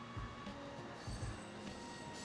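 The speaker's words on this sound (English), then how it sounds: "that train is so loud" A passing train rumbles through as a fairly quiet, distant roar with low thumping swells and a faint metallic ring, with no talking over it.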